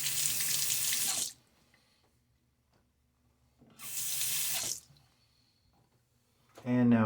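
Tap water runs into a bathroom sink in two bursts of about a second each, separated by quiet, as the face is rinsed after a wet shave; a voice begins speaking at the very end.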